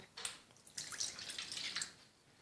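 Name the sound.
pouring water into a container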